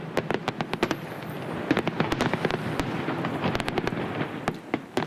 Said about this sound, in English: there was a large fireworks display at the Harbourfront Centre, which lasted for about 10 minutes.